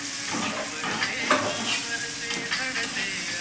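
Vegetables sautéing with turmeric in a pan, a loud close sizzle with steady stirring scrapes and occasional clinks, no talking.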